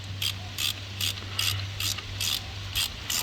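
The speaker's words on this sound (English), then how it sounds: "You can actually get a ratchet on there and easily tighten." Ratchet clicking in quick repeated bursts while tightening a coilover adjuster on an MK5 Volkswagen Golf GTI, about eight even crisp ratcheting strokes over a low steady hum, close up with no voices.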